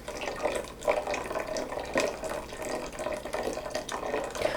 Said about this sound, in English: I will pour this sauce into the pan and I will add more broth to it